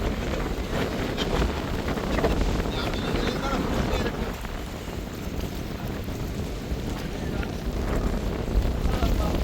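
Strong wind blowing along a Jaffna coast, roaring steadily into the microphone over surf and waves, with a voice faintly under the gusts.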